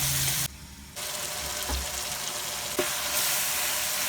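Tomatoes with salt and kadai masala fry over medium heat in a kadai for aloo bharta, a continuous hiss of frying that briefly drops lower before the steady sizzle resumes.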